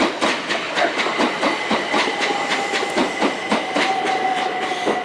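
A train runs along the railway in Faversham, Kent, England, with a rhythmic clickety-clack of wheels over rail joints and a faint squealing tone, loud and close the whole time.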